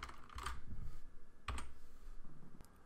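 Typing on a computer keyboard comes through as quiet, close clicks in a few short bursts, separated by brief pauses.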